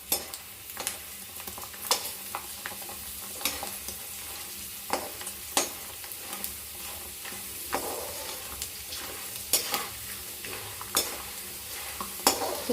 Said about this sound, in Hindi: ऐसे से घी में फ्राई करती जाऊंगी।